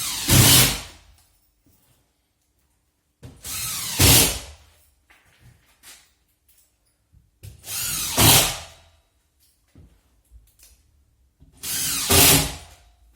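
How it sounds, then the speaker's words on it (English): A power drill drives screws into plasterboard on a wall, four separate bursts of loud whirring spaced a few seconds apart, each rising quickly and cutting off, with quiet gaps between. "I'm running my screws roughly every 12 inches, and I always make sure I put plenty of screws into my plasterboard"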